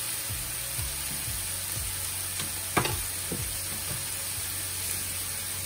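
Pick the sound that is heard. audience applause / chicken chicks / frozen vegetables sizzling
frozen vegetables sizzling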